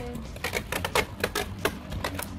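Beyblade spinning tops in a stadium, a Santa Claus combo, rattling and scraping along the stadium edge in a rapid series of sharp clicking impacts, close and fairly loud.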